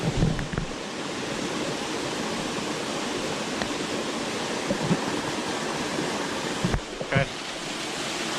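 A waterfall roars in a steady, dense rush of water, loud and close throughout, while a single brief word is spoken over it.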